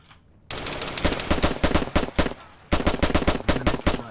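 Loud, close automatic gunfire in ARMA 3, opening with a long sustained burst after a brief quiet start, then a short pause and further rapid bursts of shots, with no talking.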